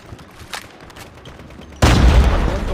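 Sparse distant shots pop at first in a video game, then a sudden loud burst of rapid gunfire erupts and keeps going, dense and close.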